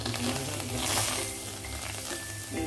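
Hot oil poured over a paneer patty mixture crackles in a close, continuous sizzle that swells briefly near the start and then settles into a steady fry with no talking.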